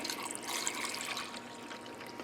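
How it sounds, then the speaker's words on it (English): Water pours into a rock tumbler barrel holding rough crystals with a drop of dish soap, a faint, steady hissing splash that carries on for a couple of seconds. "I'm going to put some water in there"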